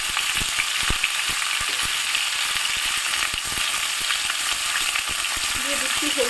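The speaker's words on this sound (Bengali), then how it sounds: "সমস্ত সবজিগুলোকে আমি একসাথে ভেজে তুলে নেব। পেঁপে দিয়ে দিচ্ছি, আর দিয়ে দিচ্ছি গাজর।" Papaya and carrot pieces fry in a hot pan with a steady, loud sizzle and crackle, broken by frequent soft clinks and scrapes as they are stirred, with no talking.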